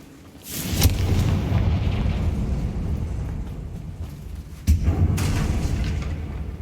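Two heavy spell blasts from Bombarda and Confringo in Hogwarts Legacy, fired at a bridge: a deep booming explosion with a long rumbling tail, then a second loud burst about four seconds later, with no talk.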